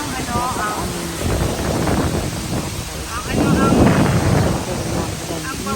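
A waterfall in a hanging garden at Kalba, Fujairah, gives a steady, broad rush of falling water, loud and continuous throughout, with wind buffeting the microphone and people talking over it.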